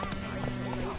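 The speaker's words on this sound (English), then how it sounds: "Run, Roach." Roach, the horse in The Witcher 3: Wild Hunt, gallops with hoofbeats and a brief whinny, heard under a voice and in-game music during a one-second stretch.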